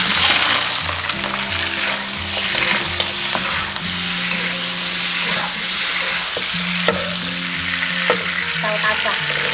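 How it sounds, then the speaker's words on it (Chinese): Pork trotters fry in oil with rock sugar cooked to a deep red, bubbling caramel, giving a loud, continuous sizzle broken by scraping stir sounds, with a faint low hum underneath and no talking. "炒至这样枣红色冒泡就可以加入猪脚。"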